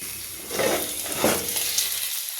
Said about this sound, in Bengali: এভাবে কড়া ঢাকা দিয়ে ঢাকা দিয়ে আলুটাকে ভেজে নিতে হবে